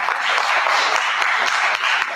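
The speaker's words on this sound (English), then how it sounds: "I think she deserves a round of applause" Audience applause at an academic conference on social media at a university faculty of arts, steady dense clapping from a hall crowd sustained throughout at moderate loudness.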